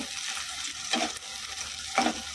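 Chopped tomato sizzles and fries in a pan during the cooking of a chicken tikka masala. A steady close hiss runs throughout, with two brief louder bursts as the mixture is stirred.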